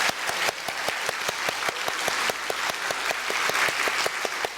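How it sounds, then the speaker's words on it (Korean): Church congregation applauding during a Sunday worship service, welcoming a newly elected city mayor; steady, dense clapping from a large crowd fills the whole stretch at even loudness, with no talk over it. "우리 박수로 격려하도록"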